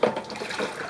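Water running steadily inside an aquarium room with an RO system, a close, broadband rushing flow with a brief louder splash at the start.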